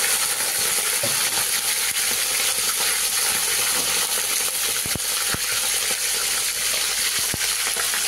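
Hilsa fish head frying in hot oil, a loud, steady crackling sizzle with sharp spitting pops throughout, no voices.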